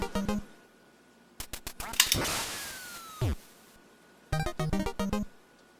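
Electronic duck quacks and game sound effects from the Duck Hunt video game, with clusters of rapid quacks at the start and end and a falling whistle and crash in the middle, fairly quiet and without talk.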